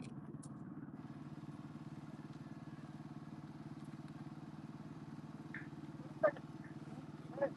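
A Husqvarna 450 rally motorcycle at the Abu Dhabi Desert Challenge prologue drones as a steady, fairly faint engine hum, with a couple of brief clicks near the end.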